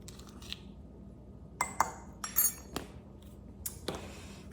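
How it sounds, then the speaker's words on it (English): A utensil stirs 3 tablespoons of melted unsalted butter with Old Bay seasoning in a small dish, producing scattered light clinks and taps of metal against glass or ceramic, faint and irregular. "And just stir it up so it's melted, so it's nice and combined."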